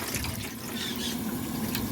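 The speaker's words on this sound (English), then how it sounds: "So now I'll add some water to these now" Water runs steadily into a pot of Jamaican pork wine stew, a constant close splashing pour lasting the whole moment before cutting off abruptly at the end.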